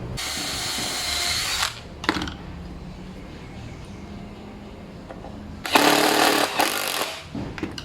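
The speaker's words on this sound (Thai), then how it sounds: "กระดึงขึ้นมาก็ไปเจาะยึด ตามตำแหน่งนี้เลยนะครับ" A power drill drives fasteners into a compact wooden 45-degree cutting jig, running in two loud bursts at the start and later, separated by quieter handling noise.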